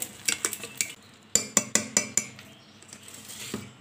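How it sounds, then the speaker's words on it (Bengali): Gram flour batter with Eno being whisked by hand for dhokla, a run of quick clinking utensil strokes against the bowl in two bursts, close and fairly quiet, with no talking. "আবারও ভালো করে বেসনটা এভাবেই ফেটিয়ে নেব"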